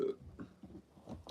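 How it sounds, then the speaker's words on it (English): A single short, low, gurgling burp rumbles for about a second, fairly quiet and alone, from a man hosting a live horror film chat. "My bad, guys. I got a burp."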